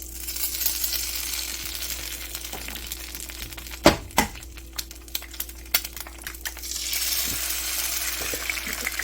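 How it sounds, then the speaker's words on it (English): Farm-fresh eggs of mixed shell colors cracked into a hot skillet: two sharp cracks close together, then a steady broadband frying sizzle that holds throughout, with a few light taps and clicks scattered over it. "crack some eggs"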